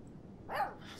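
A dog in the video game Life Is Strange 2 lets out a single short bark, soft and fairly distant, over quiet background ambience.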